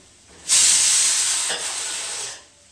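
Onions hitting hot oil in a pan, a sudden loud sustained sizzling hiss that holds steady for about two seconds then cuts off, close and alone.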